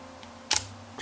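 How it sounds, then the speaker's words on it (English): A spray bottle of water is pumped on a rainy day while setting up macro photography: one short, close hissing spray burst rises from quiet, with a faint tick before and after. "get my spray bottle"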